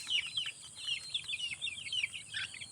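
Chickens on a Philippine farm cluck and chatter in quick, overlapping bursts, close by and moderately loud, with a continuous higher insect-like whine behind them and no talking.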